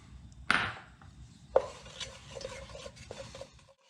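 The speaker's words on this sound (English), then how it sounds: "I've got hot melted butter and we're going to be adding some all-purpose flour." A utensil stirs all-purpose flour into hot melted butter in a pan to make a roux for shrimp étouffée: a few sharp clinks against the pan and soft scraping strokes, fairly quiet with no talk.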